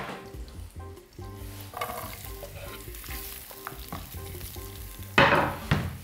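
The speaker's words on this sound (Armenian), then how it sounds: "կտապակեմ գազարը։" Carrot frying in oil in a pan for homemade cooking, a soft sizzle with stirring scrapes and clinks of utensils, ending in a louder surge of sizzling near the close.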